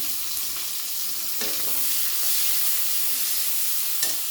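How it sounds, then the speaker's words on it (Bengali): Chopped onion and green chilli fry with panch phoron in a kadai, giving a steady, loud and close sizzling hiss that runs unbroken with a few faint stirring scrapes and no talk. "পেঁয়াজগুলো বেশ ভালো করে ভেজে, আমার পেঁয়াজগুলো বেশ ভালো করে ভাজা হয়ে গেছে।"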